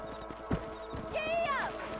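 Horse hooves galloping in the Red Dead video game, a quick string of thudding hoofbeats with a brief whinny rising partway through, heard close over a steady outdoor ambience.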